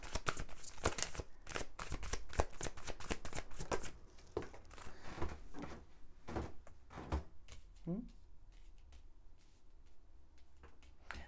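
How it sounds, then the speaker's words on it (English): Tarot cards are shuffled in dense rapid riffles, close and crisp, then give way to scattered softer card handling and a few knocks. "don't want to watch me shuffle"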